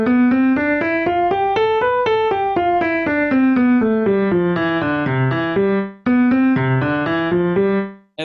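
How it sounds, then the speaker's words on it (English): A single pitched instrument plays an ascending and descending scale, then finishes with an arpeggio. The notes are clear, evenly spaced and close, with no other sound around them. "I basically did an ascending and a descending scale ending with an arpeggio"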